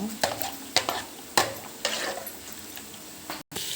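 Sizzling tempering of green gram in a pan, soft steady crackle broken by a few sharp clinks of a spoon stirring, close and quiet.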